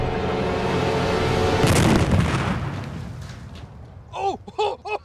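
Explosion effect for a shot fired in an extreme game of Battleships: a loud, rolling boom that swells and slowly fades, followed by excited voices shouting.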